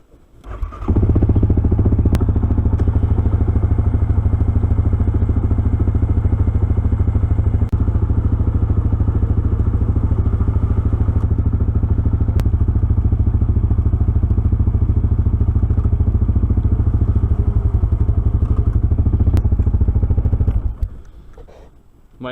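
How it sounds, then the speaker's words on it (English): A winch hauls a heavy log toward a spot to dry for the winter, giving a loud, steady motor drone with low rumble that runs about twenty seconds before cutting off, with faint clatter and no talk. "Hopefully this winch has enough power to move it."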